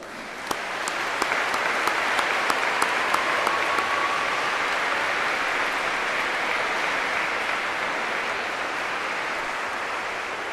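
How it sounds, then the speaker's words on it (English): At an eighth-grade graduation ceremony, standing students and the audience applaud their parents and guardians with a broad, steady wash of clapping that holds evenly throughout, with a few sharper individual claps early on. "let's applaud them all."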